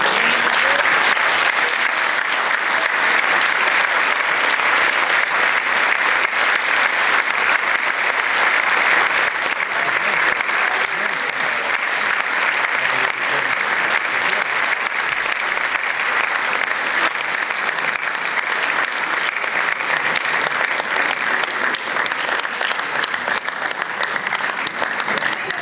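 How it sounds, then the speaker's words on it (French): Sustained theatre audience applause following an amateur performance of the play "Le sapin a les boules", dense steady clapping from a full room lasting throughout without pause. "il faut encore applaudir le travail."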